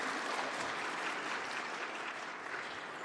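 Applause breaks out in a United Nations forum meeting room, a continuous, fairly distant patter of many hands clapping throughout.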